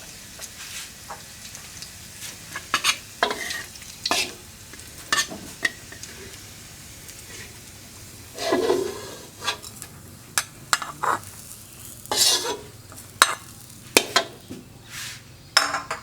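Garlic frying in oil in a pan crackles softly as a utensil repeatedly scrapes and knocks against the pan in irregular strokes, with a few louder bursts of sizzle.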